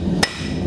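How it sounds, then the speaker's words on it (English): A single sharp hammer blow rings out on a steel horseshoe held at the anvil horn, struck with the flat face of the hammer while shaping a Kerckhaert Steel Comfort shoe; one clean metallic clang, close and loud, then quiet shop hum. "I'm going to hit with the flat side of the hammer at the point where I want it to start coming out"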